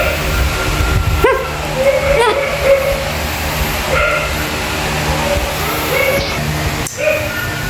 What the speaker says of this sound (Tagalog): Umaalulong aso dyan sa kabila.